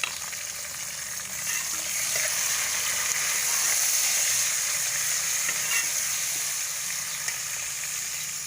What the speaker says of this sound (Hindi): इसी के साथ ये मैंने 2 टमाटर धो के काट के रखे हैं, वो भी डाल दिए हैं।